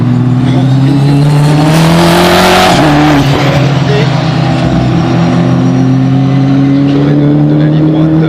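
Race cars sprinting down the straight at the Nogaro circuit in France: loud, sustained engine drone with rising pitch as the cars accelerate past, under excited commentary.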